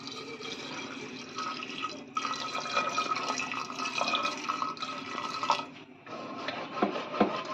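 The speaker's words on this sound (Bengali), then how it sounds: "এবার দিয়ে দেবো জল।" Water pours into washed chickpeas seasoned with turmeric, salt and white oil for a chana masala, a continuous close rushing stream that briefly pauses near the end before resuming.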